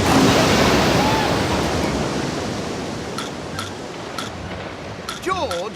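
A cartoon river, diverted toward a jungle pond, floods everything in a loud, steady rush of water that fades slightly over several seconds, with brief voice-like squeaks near the end.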